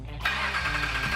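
A Twinpala hot rod engine cranks over as it tries to start: a sudden rough, churning mechanical drone that begins after a brief quiet moment and runs steadily and loudly to the end.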